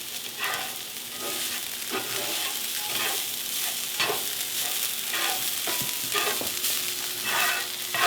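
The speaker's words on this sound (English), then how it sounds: "take a look at our cauliflower rice just to see how it's doing. And it is getting nicely browned, which is what we want. So I'm going to give it a stir" Browning cauliflower rice is stirred in a cast iron pan, with a continuous hiss of frying under repeated scraping and shuffling strokes of the utensil, moderately loud and close.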